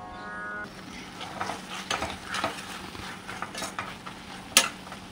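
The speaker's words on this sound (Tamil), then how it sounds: "கொஞ்சம் மூடி வதங்கட்டும்" Chopped country tomatoes cooking in a pan for mushroom biryani, with soft sizzling, wet squelches and a spoon scraping and clinking against the pan in short bursts, close up.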